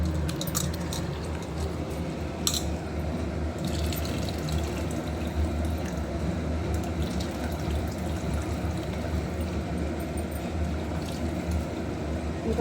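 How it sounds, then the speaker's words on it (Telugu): Tap water runs steadily into a vessel in a home kitchen while lunch is being prepared, a continuous splashing flow that holds at an even level throughout with no talk. "ఇంకా కొన్ని వాటర్ పట్టి"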